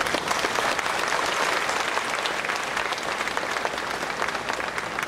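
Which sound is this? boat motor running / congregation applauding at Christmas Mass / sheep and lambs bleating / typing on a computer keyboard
congregation applauding at Christmas Mass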